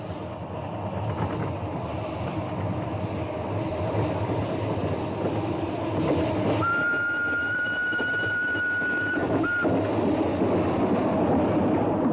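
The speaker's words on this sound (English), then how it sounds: "number 1 and Britomart steamed slowly back towards Minforth" Two small narrow-gauge steam locomotives rumble and chug steadily along on the Ffestiniog Railway, with a sustained whistle blowing partway through before cutting off.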